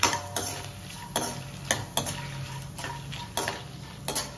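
Spoon stirring fried lentils into a brinjal curry in a pan, giving a series of sharp clinks and scrapes against the metal about every half second, with a faint sizzle of frying underneath.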